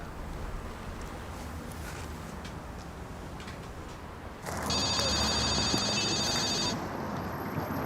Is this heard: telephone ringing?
yes